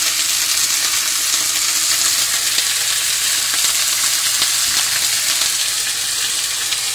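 Steady, loud sizzling of kimchi frying in a hot pan, a continuous crackling hiss throughout with no talking.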